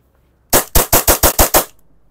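Gas blowback CO2 airsoft pistol firing seven sharp, loud shots in quick, even succession, each a crisp crack with a short tail, then quiet.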